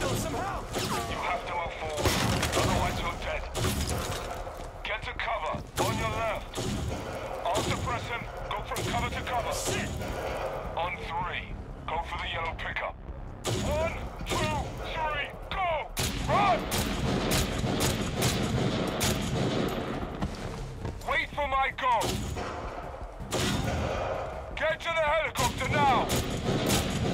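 Heavy gunfire and explosions from the military shooter game CrossfireX, with rapid bursts, booms and rattling shots continuing nearly throughout, loud and dense, while shouted voices talk over the combat.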